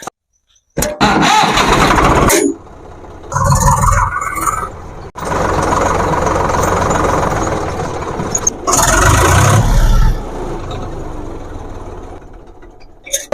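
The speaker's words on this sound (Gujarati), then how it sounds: "જો ટ્રેક્ટર આવી ગયો છે" A tractor engine on a farm starts and runs in loud, close bursts, cutting out and firing up again several times, with the longest stretch of steady running in the middle.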